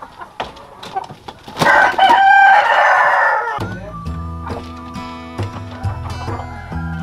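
On a free-range chicken farm breeding Siam and Peruvian chickens, a nearby rooster lets out one loud, drawn-out crow, followed by repeated clucking from the chickens around it.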